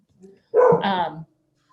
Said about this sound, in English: my dogs are gonna start barking